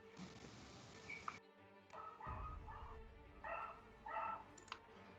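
A pet dog barks and yips several times in a home during an online debate, sharp close barks with short gaps and some whimpering, no speech over them.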